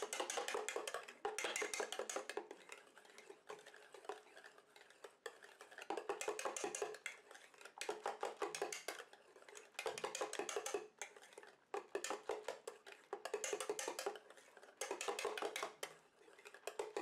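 Homemade foot cream being stirred in a small container, a steady run of quick, rhythmic scraping bursts repeating in short pulses, close and fairly quiet, with no talking.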